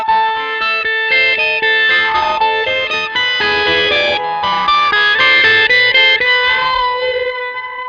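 An electric guitar run through a whammy pedal set an octave up, with delay, plays a bright, busy riff in a steady stream of repeated notes that carries a chorus-like shimmer and distortion, loud and alone.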